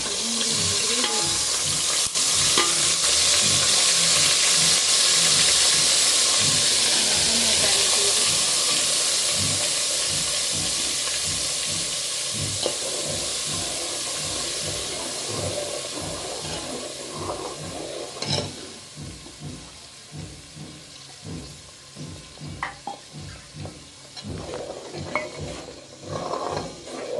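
Onion gravy for Kathiyawadi-style pav bhaji sizzles hard in a hot pan, a loud steady hiss that softens over time while a spoon stirs and scrapes in quick repeated strokes.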